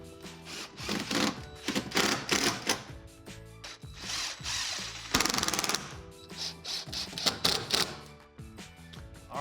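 A power drill drives screws into the braces of Delta Hycroft alcove shower walls, giving repeated short whirring bursts with brief pauses between them. No voices are heard.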